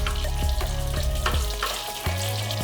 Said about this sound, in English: Bubbling and sizzling nicely.